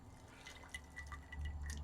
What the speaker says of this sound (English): And you stick our boiling hot water in here.